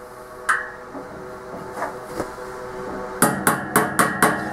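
A wheel bearing is tapped into the aluminum hub of a 2001 KTM 250 two-stroke dirt bike: a few light scattered taps over a hum of background noise, then five crisp, evenly spaced hammer strikes close by at the end.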